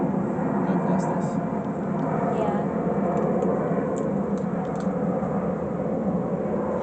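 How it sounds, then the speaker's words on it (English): An airplane passes overhead as a broad, steady roar that fills the whole stretch, loud and unbroken, with faint outdoor sounds at the edges. "Just wait for the plane to go past us."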